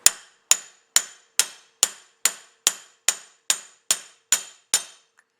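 A hammer strikes a socket to drive a car AC valve into place on a Chevrolet: twelve sharp metallic blows at a steady, even pace, each ringing briefly, close and clear with no talking.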